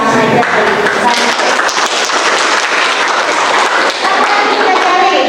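A classroom of children clapping along in a colour-based clapping game, with dense, continuous applause-like claps and voices mixed throughout.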